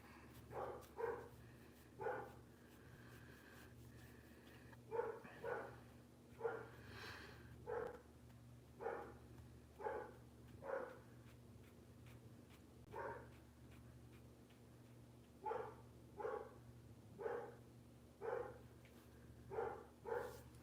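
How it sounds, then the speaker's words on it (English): A dog barks repeatedly in short single and double woofs at irregular intervals, going frantic somewhere in the background over a steady low hum indoors. "God, can you guys hear the dog?"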